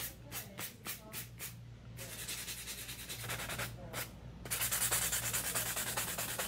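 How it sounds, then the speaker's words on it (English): Long XXL tapered acrylic nails are buffed smooth with steady rhythmic rubbing strokes, first in short bursts and then in a continuous, louder scraping close up. "I'm just gonna give it a nice buff."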